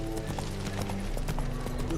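The horse Roach gallops in the video game The Witcher 3, its hooves beating a steady, quick rhythm at moderate loudness over a faint background.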